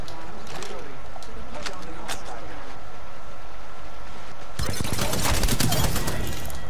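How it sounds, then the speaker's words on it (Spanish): Rapid gunfire crackles in the Apex Legends video game, first in scattered distant pops and then in a dense close burst near the end. "Están disparando, ¿eh? Desde arriba, no sé."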